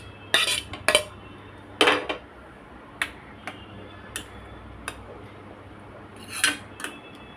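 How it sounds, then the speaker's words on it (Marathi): Salted raw mango pickle masala is mixed into cooled oil for kairi lonche. A metal spoon clinks against a steel pot in sharp, irregular strikes, some close together, with quiet scraping between them and no voices. "आता आपण हे जे कैरी मसाला आणि मीठ लावून ठेवलं होतं ना,"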